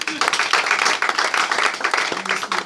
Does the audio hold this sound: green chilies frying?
no